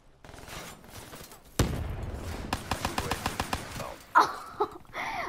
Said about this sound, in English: All of those shots were just on the right of him.